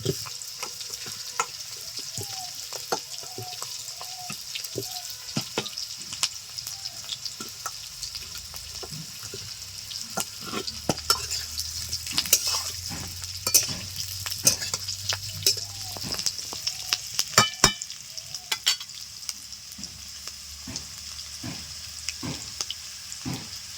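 Fried potatoes being stirred into a pan for a village-style katla fish curry, a low steady sizzle with repeated scraping and clinking taps of the spoon throughout.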